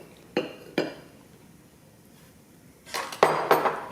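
Mug cake batter for a snickerdoodle mug cake being mixed in a mug, heard as a few sharp clinks of a utensil against the mug, two separate taps followed by a busier cluster of scraping clinks near the end, close and clear with no talk.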